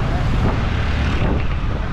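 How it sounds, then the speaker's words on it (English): Loud, continuous wind roars and buffets across the microphone at Juhu Beach in Mumbai, with a broad rushing noise and no pauses. "It's super windy."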